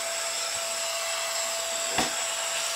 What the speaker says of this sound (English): this is the blower